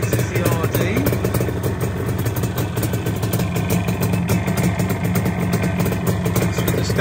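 A classic Yamaha RD motorcycle engine idles close by with a constant, even throb that stays level and unbroken throughout.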